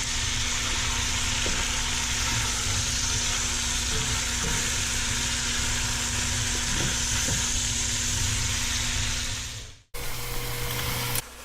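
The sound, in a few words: lamb and onions frying in a pan for cassoulet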